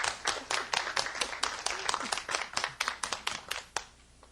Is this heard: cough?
no